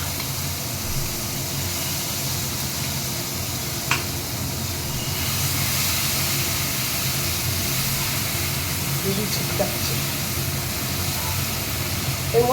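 Mustard and poppy seed paste with green chilli sizzles in hot oil over a low gas flame, a steady close hiss running the whole time with a few faint clinks and stirring touches.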